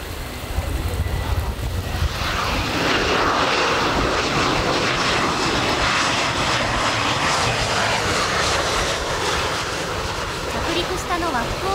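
A CRJ700ER jet airliner at Osaka Itami airport in stormy tropical-depression weather produces a loud, sustained engine roar that swells and holds throughout, with wind and rain noise blended in.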